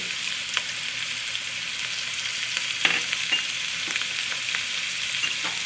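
Grated ginger sautés with garlic in hot oil for a Chinese patti samosa filling, a steady close sizzle with faint scrapes of stirring and no voices.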